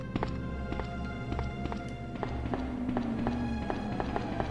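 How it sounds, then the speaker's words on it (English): Footsteps in the 1998 PlayStation game Resident Evil 2, a steady run of hard, echoing clacks over a low droning ambient background, with a faint tonal sweep partway through. "Like all the different footstep noises."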